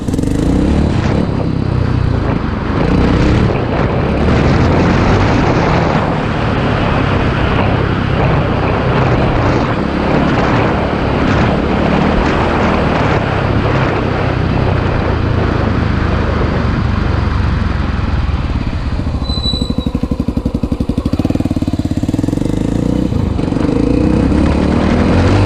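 A dirt bike engine, apparently a Honda XR 500, roars loud and close throughout as the rider accelerates on a trail, its revs rising and holding steady with wind rush, no voices.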